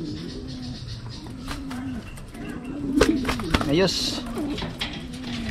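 Racing pigeons cooing nearby in soft repeated low calls, with a person speaking briefly over them and some background rustling.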